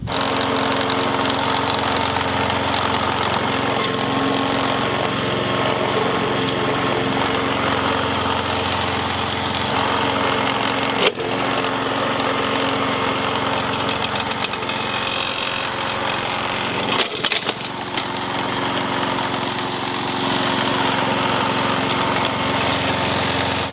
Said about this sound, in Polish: Teraz test z kosiarką.